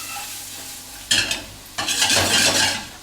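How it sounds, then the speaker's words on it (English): Mushrooms in olive oil are tossed in a hot pan, two sharp rattling stirs that burst into a loud sizzle, close up, with no voices. "And now start tossing your mushrooms."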